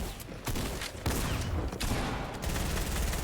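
Rapid gunfire and explosive blasts from a Fortnite solo cash cup match, with an RPG rocket launcher in play, several sharp bursts cutting in over a dense, loud, continuous barrage of combat noise.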